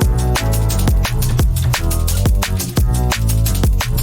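Loud, dense drum and bass track, heard before its final mixdown, with punchy kicks and snares driving a fast steady beat over heavy sustained bass and layered synths, playing alone without talk.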